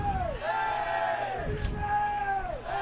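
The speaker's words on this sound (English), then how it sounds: "Williams also known for their cheers. You may hear it in the background there." Williams College ultimate frisbee team cheering from the sidelines, a chanting crowd of voices rising and falling in sung, rhythmic calls, fairly loud and continuous under the field noise.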